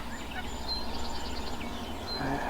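A wild turkey gobbles during a late-season morning hunt around seven o'clock, a rattling call heard at moderate distance over steady outdoor background noise.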